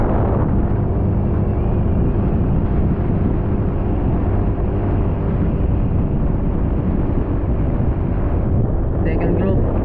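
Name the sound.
strong wind blowing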